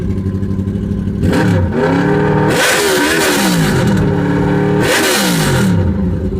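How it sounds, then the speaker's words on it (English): A Honda N600 fitted with a VFR800 engine is revved hard twice at close range, each loud climbing roar falling back to a steady idle, with no voices. "And I'll throw a rev at it, and then I'll shut down."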